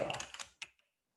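Keys on a computer keyboard are tapped during coding: a quick flurry of close clicks, then a single sharper keystroke and a few fading taps before it goes quiet.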